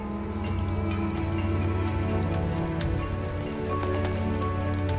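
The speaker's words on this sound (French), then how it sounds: "La pluie ne semble pas vouloir s'arrêter." Steady rain patters down continuously, a dense even wash of drops on surfaces with occasional louder drips, no voices.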